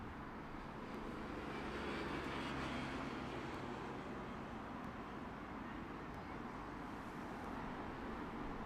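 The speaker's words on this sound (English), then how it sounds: "A320neo coming in from Oslo" A Scandinavian Airlines Airbus A320neo landing at Heathrow from Oslo, its engine roar steady, broad and fairly loud throughout, with no talk over it.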